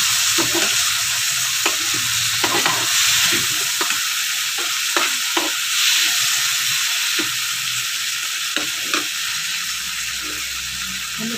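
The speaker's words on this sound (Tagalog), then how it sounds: "Halutuin muna natin siya" Dry fish and tomato frying in a pan, stirred with a utensil: steady sizzle and hiss under a run of clinks and scrapes repeating at an irregular rhythm, close and moderately loud throughout.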